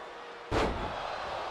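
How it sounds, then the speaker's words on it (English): A wrestler is slammed down onto the mat during a match, a single sudden heavy impact that cuts in abruptly and leaves a loud rumbling wash of noise trailing behind it. "As he picks Bate up and slams him down to the mat."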